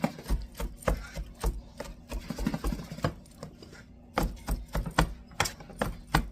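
A knife finely chopping eggplant on a board, with quick irregular runs of crisp taps broken by a short pause before another brisk burst.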